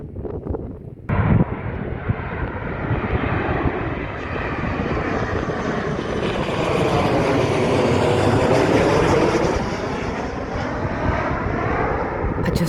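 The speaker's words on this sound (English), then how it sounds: "So it looks like a plane spotting area up here, doesn't it, Bab?" A fixed-wing airplane passes overhead near a plane spotting area outside Alicante, Spain, its broad engine roar building steadily and peaking as it draws closest, with light wind buffeting the microphone.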